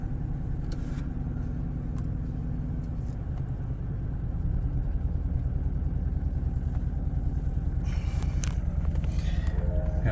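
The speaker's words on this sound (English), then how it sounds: "So pretty rough idle at first." A Chevrolet 5.3L V8 fitted with a 6.2L ported intake manifold idles roughly just after start-up following a battery disconnect. The close, loud, uneven rumble stays constant throughout, with some rattling and clatter near the end.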